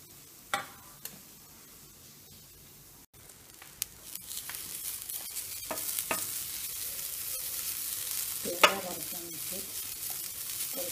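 Grated coconut roasting in a pan for a small onion curry starts quietly with a few clinks and scrapes, then becomes a steady close sizzle with stirring scrapes and a louder clatter toward the end.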